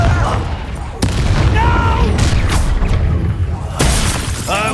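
In the video game Hogwarts Legacy, the Confringo spell sets off sharp explosive blasts, one near the start and another later, amid shouted voices and crackling debris.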